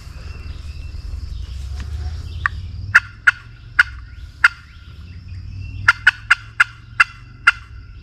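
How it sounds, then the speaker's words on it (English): Wild turkey gobbler in June heat, gobbling in loud repeated rattling bursts, two clusters of several calls each, fairly near over a low steady hum of insects and wind. "Oh yeah, he's gobbling good"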